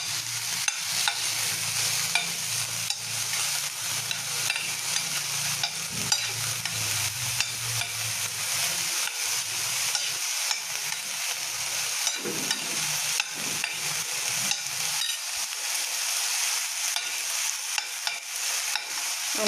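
Vegetables and paneer fry in a pan for pizza topping with a continuous close sizzle, while a utensil scrapes and stirs repeatedly throughout. The frying is loud and steady, and no one speaks.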